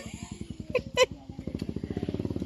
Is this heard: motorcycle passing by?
yes